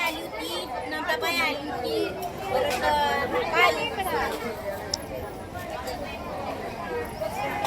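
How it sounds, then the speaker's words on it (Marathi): A dense crowd of devotees fills the Ambika Mata temple grounds on a full moon day, a steady, close babble of many overlapping voices with occasional clicks and knocks throughout. "तुम्ही बघा किती गर्दी आहे बघू शकता भयंकर गर्दी आहे"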